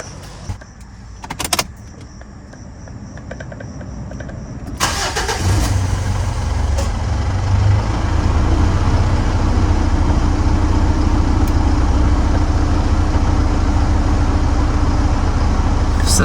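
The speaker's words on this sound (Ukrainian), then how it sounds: "Тепер можемо заводити машину." A Mitsubishi Pajero Sport 2.5 TD diesel engine cranks and fires after a fuel filter change, then settles into a steady, loud, close idle. Faint clicks and a door-like knock come before it starts.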